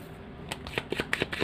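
Tarot cards shuffled by hand in a quiet room during an Indonesian Gemini reading, a brisk run of soft riffling flutters coming in several short bursts, close and alone.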